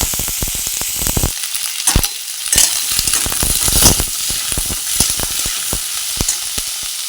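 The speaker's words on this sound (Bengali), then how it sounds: "আলু কুঁদরি ভাজার জন্য সামান্য তেল নিলাম। তেলটা গরম হলে আলু কুঁদরি" Potato and ivy gourd (kundri) pieces fry in a little hot oil, giving a steady close sizzle broken by sharp crackles and spatter pops, with a few louder bursts from stirring and no voices.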